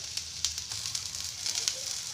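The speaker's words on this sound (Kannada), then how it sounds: "ಚೆನ್ನಾಗಿ ಹುರಿಸ್ಕೋತಾ ಇದ್ದೀನಿ" Soft sizzling and crackling of spices frying in a pan for fish curry masala, with small pops, close by and fairly quiet.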